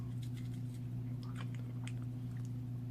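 Crunchy, squishy chewing of a foam-like Hispanic snack with a chalky texture, a series of close mouth sounds over a steady low hum, with no talk.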